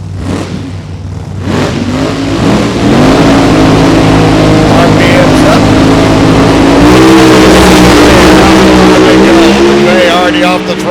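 Drag racing car accelerating down the track at a night event in Topeka, a loud, rising engine roar that climbs in pitch and holds for many seconds, with a commentator talking over it.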